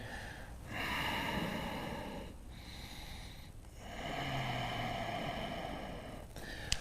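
Slow, audible breathing during a yoga pose, long inhales and exhales drawn through the nose with a slightly snorting, airy texture, close to the mic and alternating in a relaxed rhythm.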